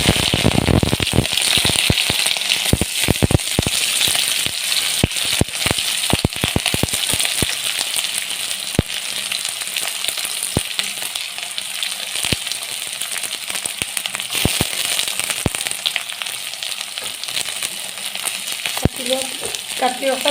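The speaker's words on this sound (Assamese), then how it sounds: "কাটি ৰখা পিঁয়াজ কেইটুকুৰা এতিয়া ভালদৰে ভাজি লওঁ" Chopped onions fry in hot oil in a kadai, a loud continuous sizzle broken by sharp scraping clicks of a stirring spoon against the pan, close up with no talking.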